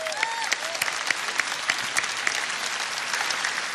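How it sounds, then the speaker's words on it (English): Dense, steady applause from a large crowd at a Trump political rally in Cedar Rapids, Iowa, with sharper individual claps and faint whistles poking through the continuous roar. "That's worth clapping for, I think."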